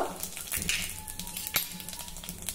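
Dried red chilies, mustard seeds, cumin and a pinch of asafoetida hit hot oil for a Gujarati kadhi tempering, giving a close, steady sizzle with scattered crackles and pops and a few utensil clicks.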